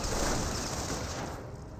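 Sustained gunfire rattles against bunkers in Company of Heroes, a dense, continuous burst of shots and impacts, loud and unbroken, fading slightly at the end.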